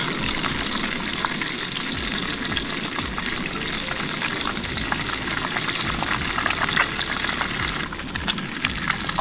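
Fresh Coosa bass fillets fry in hot oil, a loud continuous sizzle and crackle close up, with faint stirring and turning sounds and no talk.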